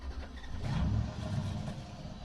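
A vehicle engine sound effect from a free audio library: a car engine revs and swells briefly, rising and settling as a mid-level throaty rumble, with no voices.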